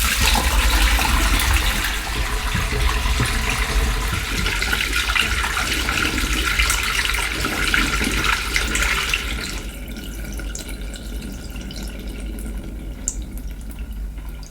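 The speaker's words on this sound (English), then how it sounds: "Now that the wash has finished, we need to empty the tub for the first rinse." Water drains steadily from the tub of a Leisure Direct GLW-82706 portable washing machine after the wash cycle, a continuous close rush of splashing flow that softens and thins partway through.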